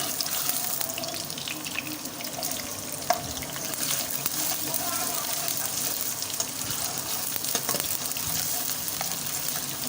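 Onions fry in hot ghee in a pan, making a dense, watery sizzle that holds steady throughout, with a few soft knocks mixed in.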